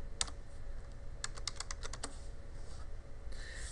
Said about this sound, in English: Let's type in the word Nmap.